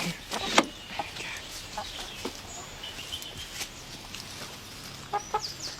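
Several short, sharp clucks from a chicken, scattered irregularly over a few seconds, fairly close against a quiet background.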